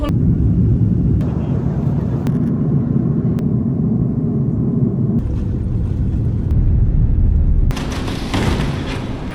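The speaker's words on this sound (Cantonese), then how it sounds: "我哋而家上咗飛機啦， 咁啊等佢起飛。" Passenger airplane taking off on a late-night flight to Bali, heard from inside the cabin as a heavy, steady low rumble that shifts in strength partway through and surges with a brighter roar near the end.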